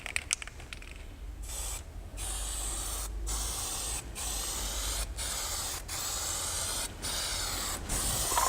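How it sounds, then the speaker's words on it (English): A spray gun lays paint onto a car in light coats, steady hissing bursts that stop briefly and start again about once a second, close and loud with no voices. "we're now ready to spray."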